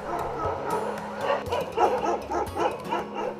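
A group of street dogs yaps and barks repeatedly as dog catchers arrive, the rapid overlapping yips moderately loud within a busy outdoor ambience.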